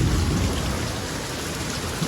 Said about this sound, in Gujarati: તમે જોવા કાંઈ કેટલો વરસાદ પડે તમે ચેક કરો ખાલી.